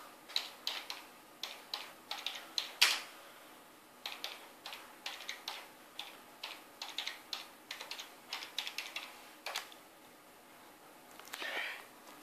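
Typing on a computer keyboard while entering a fastboot command to reboot a Google Galaxy Nexus bootloader: irregular bursts of quick, light key clicks, close and clear, with short pauses between runs.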